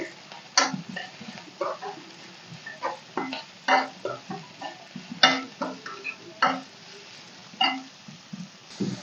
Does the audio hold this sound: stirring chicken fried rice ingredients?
yes